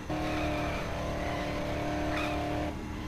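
Electric car from the video game Dead Island driving with a steady, loud humming whine and road noise that holds for about three seconds, with a brief rise near the end.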